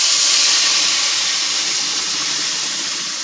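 Cumin seeds and asafoetida tempering in hot oil for masoor dal with spinach, giving a loud, steady, close sizzling hiss that fades slightly toward the end.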